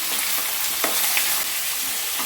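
Chicken liver sizzles steadily in a hot pan, a constant bright crackle of frying with faint scraping as it is stirred.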